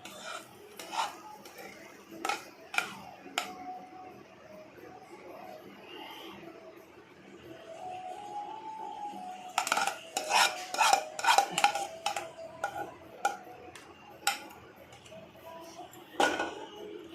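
Sticky brown bread halwa is scooped from a pan into a bowl, with a spoon repeatedly scraping and clinking against cookware in short, irregular bursts, close and fairly quiet.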